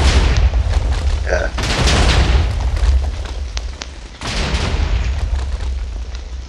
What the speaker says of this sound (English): there's like still TNT blocks that have just fallen. Fireworks. This is how you do fireworks in Minecraft.